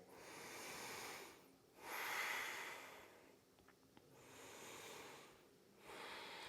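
Slow, deep breaths during a yoga forward fold, heard close and soft, with long airy inhales and exhales alternating in a calm, steady rhythm and no talk.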